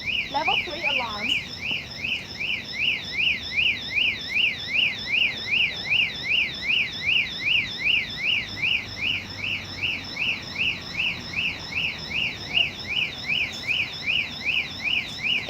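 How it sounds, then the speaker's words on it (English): A level 3 alarm on a machine meeting the IEC alarm standard sounds as a continuous warbling electronic tone, rising and falling in rapid regular cycles at steady loudness throughout, with no talk over it. "Okay, so now, you see, level 3 alarm."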